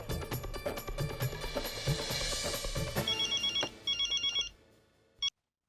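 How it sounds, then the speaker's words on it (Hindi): A telephone rings in a home setting in short repeated electronic bursts. The rings come through background music and noise, then the music fades and one last ring is heard clearly before it cuts to silence. "मैं अभी उन्हें फोन करके बुला लेती हूँ"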